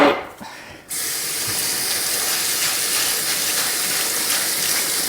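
Red lentils rinsed in a small strainer under a running kitchen tap: after a brief quiet start, a steady, loud rush of water pours continuously through the mesh, with no voices.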